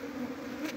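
Honeybees at a nest give off a steady, close buzzing hum that holds without a break, with no voices over it.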